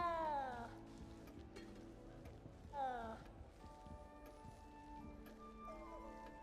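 A cat meows in the Hogwarts Legacy video game, with two drawn-out, falling cries, one at the start and one near the middle, over a steady layer of game music and background ambience.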